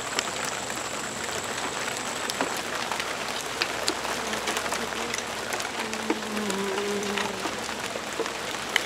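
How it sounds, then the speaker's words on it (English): Steady rain pours down, a dense continuous hiss of drops pattering on surfaces with no pauses, and a faint tone drifting in now and then. "Y'all know it's raining now, right?"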